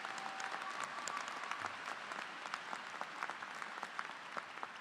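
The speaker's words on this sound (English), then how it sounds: "Please applaud." An audience applauds at a college of creative arts commencement ceremony, a steady, even wash of many hands clapping from a distance, fairly faint and continuous throughout.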